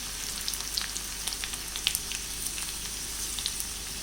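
Finely chopped ginger and garlic fry in hot oil with mustard seeds and curry leaves, giving a continuous crackling sizzle with small sharp pops scattered across, close and alone.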